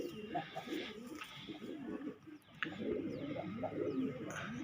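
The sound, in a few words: Kalsara pigeons cooing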